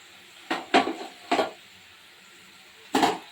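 Pieces of fish go one by one into a pot of boiling water on the stove, making four soft, close clunks and splashes separated by short pauses.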